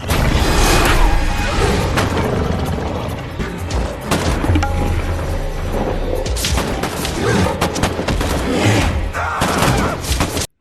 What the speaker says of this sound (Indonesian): Tiger dan teman-temannya segera menghujani monster itu dengan tembakan.